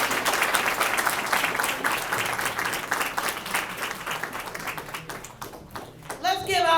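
Applause from the crowd at a Women's History Month celebration honoring a congresswoman, with loud, rapid clapping that thins out toward the end before a speaking voice comes in.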